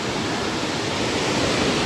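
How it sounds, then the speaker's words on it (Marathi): Forceful floodwater rushing through a foaming Konkan stream after heavy rain, a dense, loud, unbroken roar close by with no voices. "बघा किती फोर्सने पाणी आहे"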